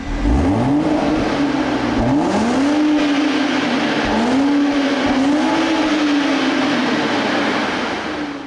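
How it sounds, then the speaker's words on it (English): Exhaust note of a 2023 Toyota Supra with a manual gearbox in regular mode, loud and close, engine pitch climbing through repeated rising pulls with brief dips at each gear change, steady and continuous with no talk. "Take a listen to the exhaust note in regular mode."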